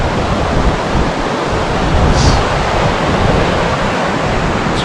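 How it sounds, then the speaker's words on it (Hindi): River water flowing steadily through Langtang Valley in Nepal, with mountains and a stupa nearby, making a continuous, loud broadband rush that holds at an even level throughout with no talk. "यहाँ से नदी पास हो रही है"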